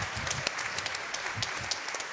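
Scattered clapping from an audience at a speedrun event for Left 4 Dead 2, light and somewhat distant, sustained briefly under a general room wash.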